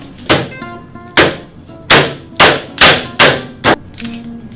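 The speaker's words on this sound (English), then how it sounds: "hammering nails." A camera is used as a hammer to drive nails, giving seven loud, sharp whacks at an uneven pace, each ringing briefly, followed by a softer knock.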